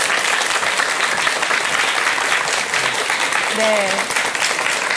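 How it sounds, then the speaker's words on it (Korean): A studio audience at a Buddhist television talk program gives steady, full applause that lasts the whole stretch, with a brief spoken word partway through. "여러분 큰 박수 부탁드립니다"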